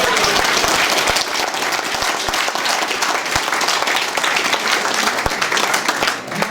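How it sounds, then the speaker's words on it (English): A crowd gives a speaker a long round of loud, dense hand clapping at a talk on democracy and free speech, the applause close and sustained for the whole stretch. "all he's going to get is a seriously big hand clap"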